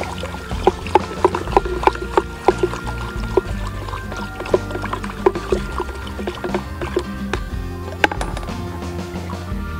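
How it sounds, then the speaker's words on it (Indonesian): Calcium fertilizer is stirred into a container of water until it dissolves, making repeated sloshing and clinking strokes at a fairly quick rhythm, with liquid swirling continuously in the background. "Kita aduk sampai larut."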